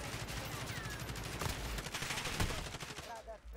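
Rapid bursts of gunfire in Call of Duty: Modern Warfare crackle continuously, with sharp shots punctuating a dense, noisy background of game sounds.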